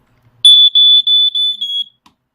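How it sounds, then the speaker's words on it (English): A smoke detector from a wireless alarm system sounds a shrill, high-pitched electronic beep in four or five quick pulses, loud and close, then goes silent. "Okay, the second one, smoke detector, was added successfully."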